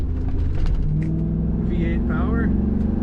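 A 2004 Chevrolet SSR V8 idles steadily with a low, constant rumble, close by and loud, while a voice talks over it.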